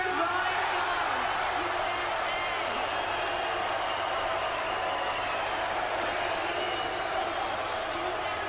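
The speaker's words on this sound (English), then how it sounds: "So the cheering led by Roy's dad, but most of the crowd booing the decision" An Olympic boxing arena crowd reacts to a semifinal decision with a steady wash of boos mixed with some cheering and whoops, sustained and loud throughout.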